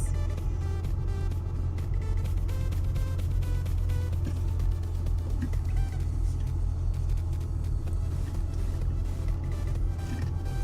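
A car on a driving-test route in Osmaniye cruises at a steady 30 km/h, heard from inside as a continuous low engine and road rumble with faint rattles and no talk.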